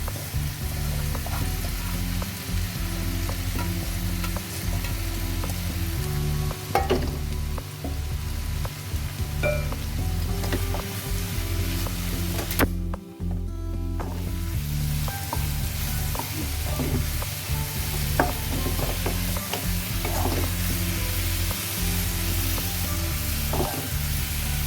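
Mushrooms frying in hot olive oil in a kadai give a steady, close sizzle for the whole stretch, with occasional scrapes and clinks of stirring breaking through.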